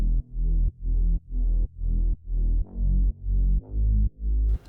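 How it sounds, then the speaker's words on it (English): A synthesized Reese bass layered with sub bass, shaped with mid-side EQ and a Super VHS-style effect, plays nine pumping, evenly spaced notes with deep low-end weight, close and alone. "And then the overall bass sounds like this."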